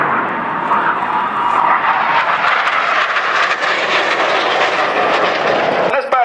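Red Arrows jets passing at the Duxford Battle of Britain Air Show, a loud broad roar that builds and holds steadily over several seconds, with a faint voice underneath.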